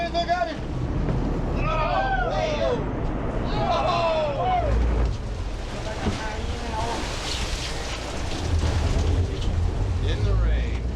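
Heavy rain and rough seas wash steadily under a boat engine's drone off Costa Rica, with voices calling out in excited bursts over the noise.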